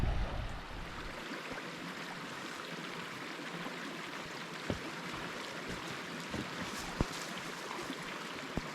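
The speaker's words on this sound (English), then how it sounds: "I'm just passing this little waterfall on Claiborne." A small waterfall on a river, passed on a long countryside walk from Alwinton, gives a steady broadband rushing of falling water close by with a few faint knocks.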